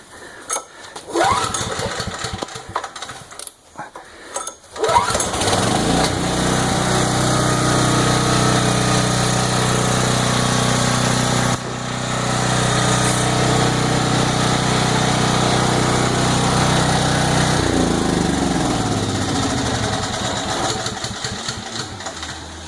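A Briggs and Stratton Storm Responder tri-fuel generator engine runs on regular gasoline, starting with uneven sputtering bursts before settling into a loud, steady, close drone that holds for the rest of the stretch.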